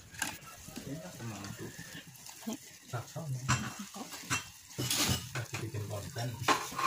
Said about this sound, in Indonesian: Lalu kita masak bahan-bahan ini dengan api yang sedang sambil terus diaduk-aduk supaya bagian yang ada di dasar panci